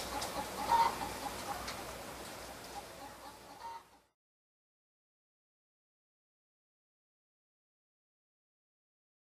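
Hens cluck at a crowded poultry farm, a dense, busy flock chorus that is moderately loud for about four seconds and then cuts to silence.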